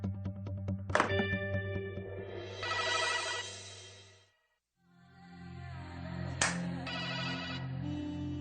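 A phone ringtone plays in two bursts of tonal musical chimes, each opening with a sharp thunk, separated by a brief silence, loud and close with no talking.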